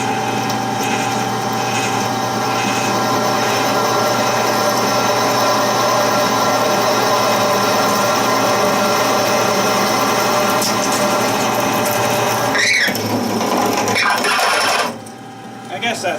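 A power drill whirs steadily for a long stretch while drilling a hole, then winds down and stops abruptly near the end.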